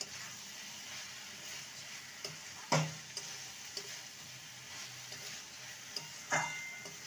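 Radish curry garnished with chopped coriander frying in a pan under a gentle sizzle, with a spatula stirring and knocking against the pan in a few sharp, irregular clacks, close and fairly quiet with no voices.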